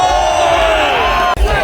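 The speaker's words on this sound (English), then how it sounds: "Massive crowd for snowmobiling." A massive crowd roars at an X Games snowmobiling event, loud sustained cheering and shouting that fills the air, broken by a brief sharp slam near the end.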